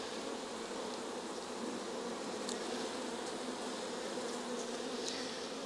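Honey bees buzz steadily around an open Cooper hive during an early spring hive check, a dense continuous hum close by and fairly quiet, with no talking.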